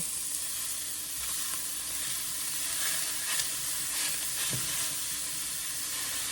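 Ground pork browning in a hot pan for a gluten-free ravioli casserole gives a steady, close sizzle with a soft hiss and a few faint stirring scrapes, and no one speaks.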